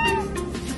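A calico cat meows in a few short, close, fairly loud calls, with a steady low background hum underneath.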